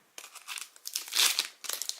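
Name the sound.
Pokémon booster packs being opened, foil wrappers crinkling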